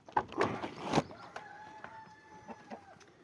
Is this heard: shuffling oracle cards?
no